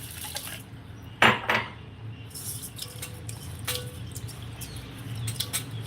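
Rice and dal for pongal are washed in a metal pot in a home kitchen, giving sporadic clinks and scrapes over a steady low hum, with one sharper clatter and faint water swishing. No talking.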